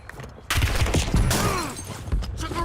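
A burst of loud, close gunfire in the video game Warzone erupts into a dense fusillade of overlapping shots and booming reports, with a short spoken shout mixed in.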